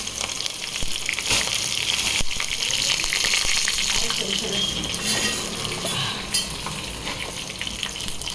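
Loud hissing sizzle of tempering spices hitting hot oil for tomato dal, crackling steadily with sharp pops, fading slightly toward the end.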